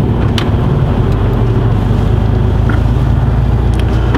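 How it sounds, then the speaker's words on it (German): A car pulls away from a motorway rest stop, heard from inside as a steady, loud low rumble of engine and road noise, with a few faint clicks and no talk. "Und jetzt fahren wir wieder los."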